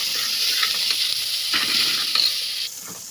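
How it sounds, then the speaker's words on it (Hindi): Green onions frying in a pan with cumin seeds give a steady, close sizzle with brief stirring scrapes, continuous and fairly loud throughout. "ये क्योंकि मैं ग्रीन प्याज जो है फ्राई कर रही हूँ इसमें"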